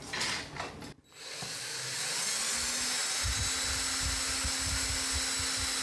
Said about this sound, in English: I can twist it in the drill